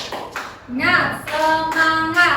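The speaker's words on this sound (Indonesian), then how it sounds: "Kita tepuk semangat dulu ya anak-anak ya." Schoolchildren in a science class do a rhythmic spirit clap, sharp patterned claps mixed with a group of young voices chanting along, fairly close and moderately loud.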